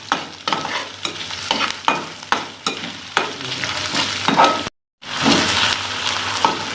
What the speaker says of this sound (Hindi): मुझे तकरीबन 1 मिनट हो गया प्याज फ्राई करते हुए